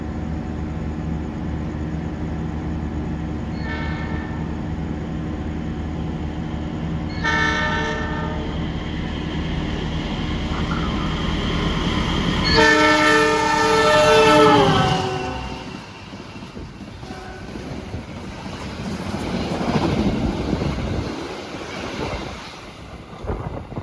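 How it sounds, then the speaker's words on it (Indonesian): The Gajayana passenger train roars past close by in Jakarta, coming from Gambir station, with a loud rumble and rattling wheels, horn blasts sounding before and during the pass, then fading into background hum. "Itu dia tadi barusan kereta api Gajayana dari arah stasiun Gambir"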